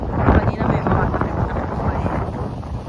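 Strong wind with rain buffets the microphone in Pickering, Ontario, in a steady, loud roar, with gusty low rumbling throughout.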